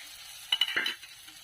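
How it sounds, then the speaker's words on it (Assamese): Dry fish frying in a pan is stirred in one quick, quiet scrape that brings a short burst of sizzle before it settles back to a low fry. "এইখিনি লৰাই দিছোঁ, ভজা হৈ গৈছে"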